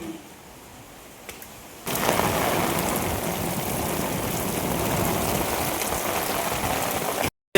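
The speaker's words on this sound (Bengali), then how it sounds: "একটু দেখি কিরকম বৃষ্টি হচ্ছে।" Rain pours down onto a rooftop with a dense, even roar that starts abruptly after a quiet moment and holds steady and loud to the end.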